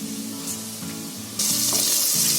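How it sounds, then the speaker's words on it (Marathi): Potatoes, vegetables and chilies fry in a pan with a steady, close sizzle, joined by a rhythmic low scraping of stirring, and the hiss grows sharply louder halfway through. "त्याच्याबरोबर बटाटी चांगली फ्राय होतात"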